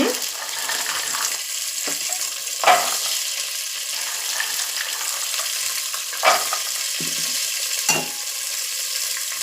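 Peas and onions fry steadily in hot oil in a pan, a continuous close sizzle broken by a few louder scraping stirs.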